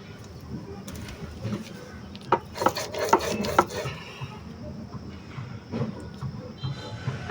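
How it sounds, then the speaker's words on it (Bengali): Lentils (dal) are ground on a stone by hand, giving soft rasping scrapes with a cluster of sharper rubbing strokes midway, fairly quiet and close. "আমি আগে সম্পূর্ণ ডালটুকু বেটে নিব এরকম একটু একটু করে"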